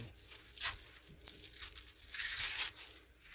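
Husks are peeled off ears of corn on the cob in several close, dry tearing rips with crinkly rustling between them.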